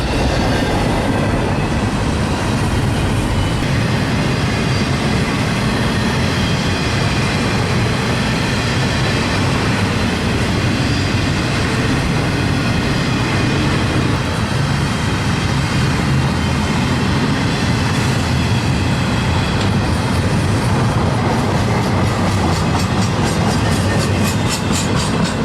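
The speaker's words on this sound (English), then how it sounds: "Q198 are the only guaranteed through mainline trains to be seen now on the Georgia Road" A freight train rolls past on the Georgia Road mainline, loud and close. A continuous roar of wheels and cars rumbles throughout, with faint rhythmic clatter and no talk.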